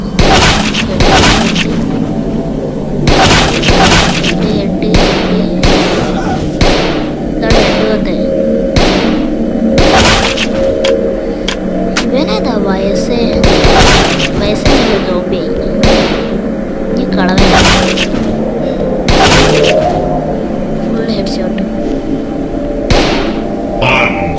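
Rapid bursts of gunfire in a zombie shooter video game, a steady run of loud booming shots spread across the whole stretch over a constant background of game music and effects, with some speech.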